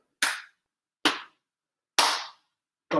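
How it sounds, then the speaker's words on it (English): Three sharp hand claps spaced about a second apart, each crisp and loud with a short ringing tail, and a fourth starting at the end. "Get a little clap and a little rhythm in here today."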